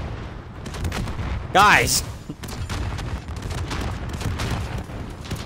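Rockets exploding in the Call of Duty: Warzone Vanguard game, a dense rumble of blasts and gunfire with one loud, sharp whooshing burst near the middle, as a player shouts over the noise.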